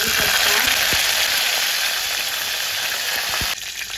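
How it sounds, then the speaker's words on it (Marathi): Mustard seeds, cumin and curry leaves sizzle in hot oil, a steady loud hiss with scattered sharp pops and crackles, alone without voices. "थोडंसं तेल गरम होते. तर आता ह्याच्यामध्ये टाकूया आपण मोहरी, जिरं,"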